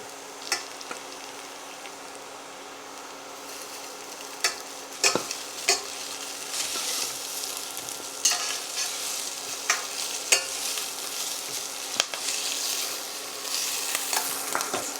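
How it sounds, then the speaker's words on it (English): Cooked rice hits a hot pan with browned garlic and onions for kimchi fried rice, giving a steady sizzle broken by repeated sharp scrapes and clacks of a utensil stirring it close by. "Since our garlic has browned, we're ready to put our rice."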